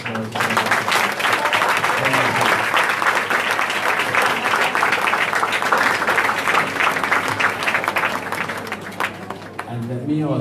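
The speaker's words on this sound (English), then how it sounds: "I'm going to ask you to give the students a nice round of applause" A large audience applauds students at a competition event, dense sustained clapping filling the room for about ten seconds before tapering off.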